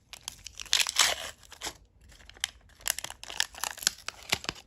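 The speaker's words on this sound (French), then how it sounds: "Voilà, on va être obligé de le déchirer." A Panini football sticker pack from 2014 is ripped open by hand, with a series of sharp paper tearing and crinkling bursts that stop and start up close.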